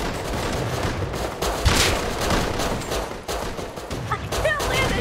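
Pistol gunfire in a video game rings out as sharp shots over a dense, noisy game soundscape, steady and moderately loud.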